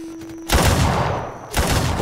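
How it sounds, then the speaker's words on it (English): Gunfire in the Roblox Wild West game: two dense, loud bursts of rapid shots, the first lasting about a second and the second following after a brief gap, with no voices over them. "Why are you shooting at me?"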